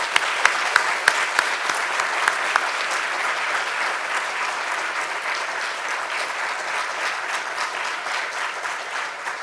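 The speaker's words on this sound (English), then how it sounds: "Let's give Dr. Lui a round of applause." An audience at a university public lecture by Médecins Sans Frontières speakers breaks into sustained applause. The dense clapping fills the hall evenly for about nine seconds and fades only slightly toward the end.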